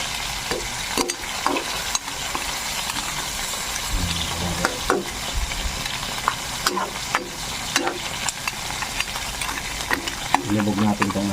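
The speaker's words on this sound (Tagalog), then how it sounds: "Ilulubog ko lang itong alimasag dahil hapok sa kanina" Crabs are pushed under and stirred through a simmering coconut milk stew with jackfruit, giving steady close sizzling, bubbling and scraping with scattered clinks of the utensil against the pot.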